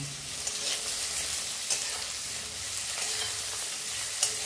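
A cut medium-sized eggplant (begun) fries in oil in a pan with a dense, continuous close-up sizzle. Faint stirring scrapes come through now and then.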